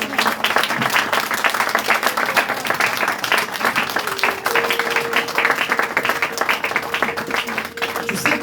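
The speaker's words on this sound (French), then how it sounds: "Est-ce qu'on peut acclamer très fort pour le Seigneur?" A church congregation at a worship service cheers and claps loudly and steadily for the Lord, dense applause sustained throughout.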